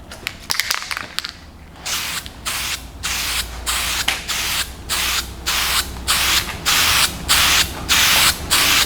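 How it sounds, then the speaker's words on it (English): Repeated bursts of a spray gun coating the chassis tunnel of a Porsche 911 Turbo (964) replica, a steady rhythm of loud, close hissing blasts about half a second long separated by short pauses, following some handling clatter at the start. "I haven't done spray painting for a while."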